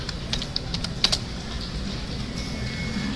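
Someone types code on a computer keyboard, a few scattered, fairly faint keystroke clicks over a quiet room hum.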